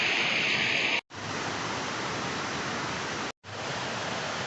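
The Soloka waterfall and river rush in a dense, constant roar of flowing water, loud and close, broken only by two brief cuts to silence.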